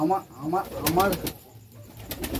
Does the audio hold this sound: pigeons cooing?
yes